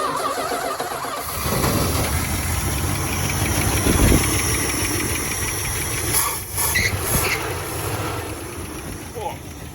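A car engine cranks and catches at a yard full of cars, then settles into a loud, rough idle with hissing and rumble up close, and voices cut in briefly near the end.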